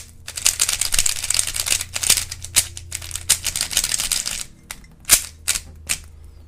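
A QiYi Mofangge Thunderclap V2 speed cube is turned rapidly, giving a dense run of sharp plastic clicks and clacks that loosens into scattered snaps near the end, close up with no talking.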